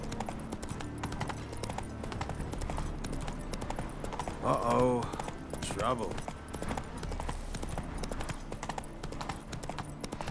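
Rhythmic clip-clop of horse hooves at a quick pace in The Witcher 3 video game runs throughout, with someone talking briefly over it and a short burst of other sound midway.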